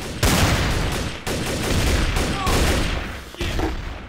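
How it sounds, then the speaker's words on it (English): Gunshots in a video game: loud, dense bursts of rapid gunfire lasting several seconds, broken by brief gaps, with a faint voice in the background. "Shots fired!"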